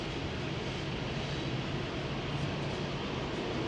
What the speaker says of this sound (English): What the fuck is that, another train?